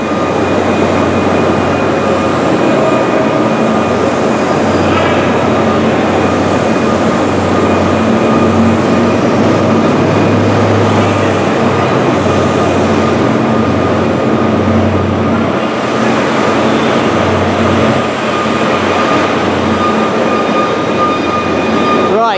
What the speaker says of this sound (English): There goes the second final HST